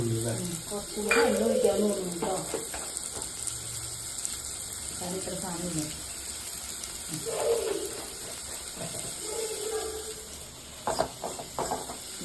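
Ginger, garlic and crushed onion frying in a pan for prawn curry, giving a steady close sizzle with bursts of stirring and a short splashy, watery stretch, while a voice talks intermittently.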